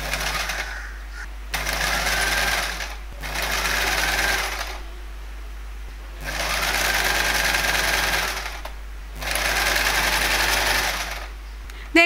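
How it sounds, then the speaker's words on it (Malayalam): A domestic sewing machine fitted with a frill (ruffler) foot gathers a ribbon into a frill, running close and steady in about four bursts separated by short pauses. "നമുക്ക് സ്റ്റിച്ച് ചെയ്യാൻ തുടങ്ങാം."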